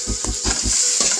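Food frying in a pan being stirred with salt added, a steady close sizzle with several quick scraping stir strokes in a short burst.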